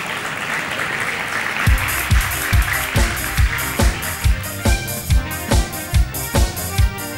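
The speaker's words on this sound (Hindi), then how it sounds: "सुगंधा का स्वागत कीजिए यहां पर मंच पर मेरे साथ ढेरों तालियों के साथ" Studio audience applause greets a performer walking on stage at a Hindi television New Year 2016 special, with loud clapping over a steady rhythmic thumping beat and no talk.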